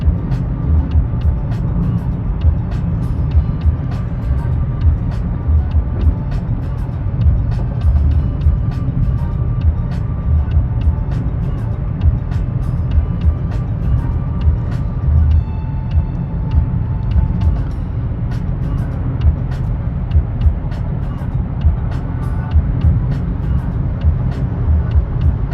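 A 2024 Mitsubishi Mirage G4 towing a trailer on the highway gives a steady, loud cabin rumble of engine and road noise that continues throughout with no pauses, and no one speaks.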